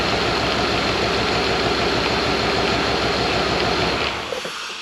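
A GM 5.3 V8 swapped into a Land Rover Discovery 2 idles through a custom exhaust with Summit manifolds, cats and the factory rear muffler, giving a steady, loud, even rumble that fades slightly at the end.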